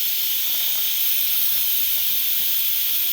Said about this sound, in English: so I'm just going to release the pressure